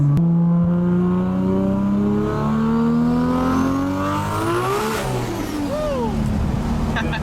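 A 1500HP Toyota Supra with a 55 psi 2JZ engine accelerates hard, its engine rising in pitch under heavy boost. The tires break loose and squeal briefly, loud and close.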